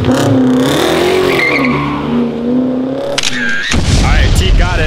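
A daily driver car launches off the line at a drag race, its engine note rising and revving loudly, then cutting to a sharp burst of tire and crowd noise, with people talking over it.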